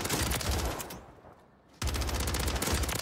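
Loud, dense automatic gunfire rattles in Call of Duty Warzone on Rebirth Island. Bursts fill the start, stop briefly in a near-quiet gap, then resume hard and continuous to the end.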